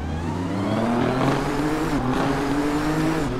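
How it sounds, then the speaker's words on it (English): Nissan GT-R GT3 race car with a modded engine sound in the Assetto Corsa racing game during a winter race at Spa, a steady loud engine drone under load with shifting revs, no talk. "So I am in the Nissan GTR GT3 with the sound mod."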